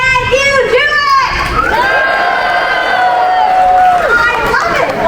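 At the Indiana Jones stunt show in Hollywood Studios, a large audience claps, cheers, whoops and hollers loudly and continuously, with children shouting over the crowd.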